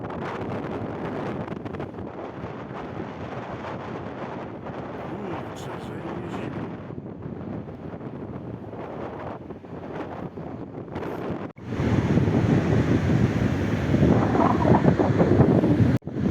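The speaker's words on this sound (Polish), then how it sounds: "Na plażę nie idziemy, bo wieje strasznie." Strong wind batters the microphone on a Baltic Sea beach, a loud rumbling roar that grows harsher after a brief cut, with people talking under the gusts.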